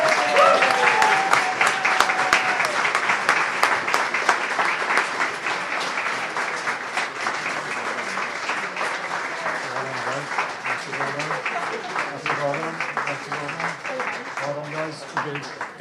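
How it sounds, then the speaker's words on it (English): An audience at a live interactive show applauds a third-placed team, steady dense clapping filling the room for the whole stretch and slowly thinning, with voices mixed in underneath. "So in third place, a big round of applause."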